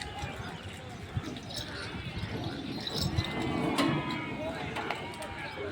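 Bulls being unloaded at a cattle market after early morning rain, with low lowing, shuffling hooves and thumps in a busy outdoor crowd, people talking throughout.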